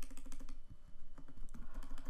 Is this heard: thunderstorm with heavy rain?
no